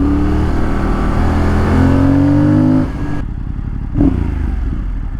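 A Fantic motorcycle engine revs and pulls hard, its pitch climbing steadily, then drops off abruptly before a short burst of throttle returns, loud and close.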